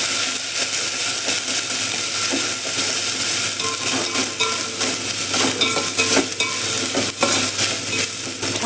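Ginger garlic paste fries in a pan for tamarind rice while a spoon stirs it, giving a steady close sizzle with scraping, clicking stir strokes throughout.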